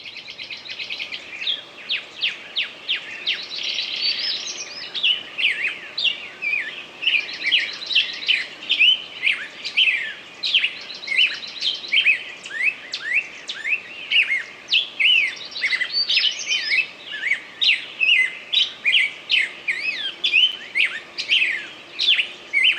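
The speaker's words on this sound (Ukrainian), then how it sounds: "спів птахів. Послухайте, як гарно вони співають." Birds sing continuously, a lively mix of chirps and trills, moderately near and without any voices.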